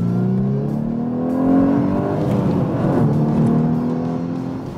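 A 2015 Volkswagen Scirocco R with a 280 hp engine accelerates under full throttle from inside the car, a steady loud engine drone whose pitch climbs and then settles as it pulls hard, with no talking.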